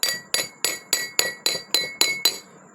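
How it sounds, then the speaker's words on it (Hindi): Clay bowls knocked together eight times in a steady rhythm, each a bright, ringing clink with a short decay, close and alone with no voices. "ये अभी जो मैंने प्याला ये खटकाया है"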